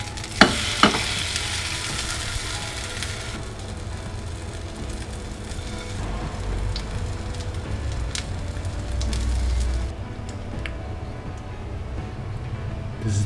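A blueberry pancake, just flipped, sizzles in a frying pan with a steady crackle, opening with a couple of sharp knocks as it lands, then a continuous close hiss that thins out later.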